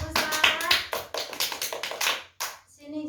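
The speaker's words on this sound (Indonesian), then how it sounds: "Ya, beri tepuk tangan untuk Usra." Classroom of students clapping for a classmate in a social studies lesson, a quick run of sharp, close hand claps that breaks off, then a brief voice near the end.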